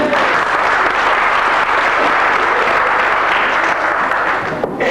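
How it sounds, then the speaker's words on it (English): Loud, continuous applause from an audience at a community dinosaur presentation, dense and unbroken for about five seconds with no speech on top. "Could you have a round of applause for them all, please?"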